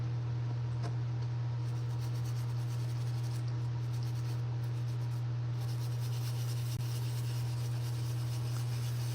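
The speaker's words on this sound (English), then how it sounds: "So let's do a little more scrubbing" Steady scrubbing on a Chevy small-block piston, a continuous close rubbing texture that runs unbroken over a low, constant hum.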